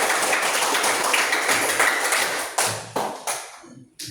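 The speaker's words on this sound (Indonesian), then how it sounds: "Kita berikan tepuk tangan" A classroom group applauds in a dense, loud wash of claps that thins into a few scattered separate claps and trails off, with no talking over it.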